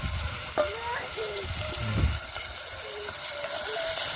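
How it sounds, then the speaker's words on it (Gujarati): Tomatoes frying in a pan of hot oil with popped toor seeds for a village-style stuffed brinjal curry, a steady close sizzle with a few scrapes and stirs. "હવે આપણી તુર ફૂટી ગઈ છે એટલે આવી રીતે ટમેટા નાખી દઈશું"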